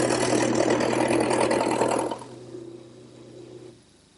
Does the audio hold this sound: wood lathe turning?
yes